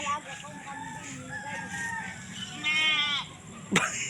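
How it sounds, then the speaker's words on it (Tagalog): Pet goats bleat several times at close range, wavering cries spread through the clip, with one sharp call near the end. Low background noise sits underneath. "Yung alaga kong kambing"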